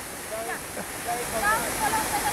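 Water pours steadily from a lion statue's mouth at a fountain in a city park, a continuous splashing rush close by, with faint voices under it.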